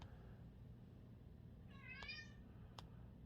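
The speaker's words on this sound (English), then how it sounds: "That is one of my cats, if you hear that." A domestic cat lets out a short, fairly faint meow from somewhere in a quiet room, under a low steady hum, with one brief tick shortly after.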